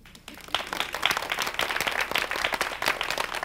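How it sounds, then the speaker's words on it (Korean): An audience at a Korean church revival lecture breaks into applause. It builds quickly from near quiet into a busy, uneven patter of many hands that stays lively to the end. "여러분 우리 몸의 세포한테 박수 좀 쳐줘"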